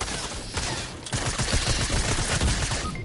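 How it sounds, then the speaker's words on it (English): Sustained SMG fire in a PS4 shooter game crackles in dense, rapid bursts for about three seconds, loud and continuous with overlapping shots. "This guy has an SMG."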